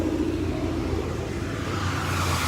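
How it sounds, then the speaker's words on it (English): A Saleen-supercharged 351 Ford Mustang idles and revs lightly at a large outdoor cars-and-coffee meet in Central Florida, a close, steady low rumble with a slight rise in pitch toward the end. "Got a saline supercharged 351 Mustang"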